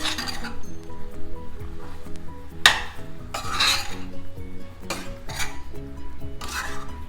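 Boiled pasta mixed into masala in a pan, with a steady metallic scraping and rubbing of the spoon against the pan, broken by several loud clinks, close and continuous over a low background hum.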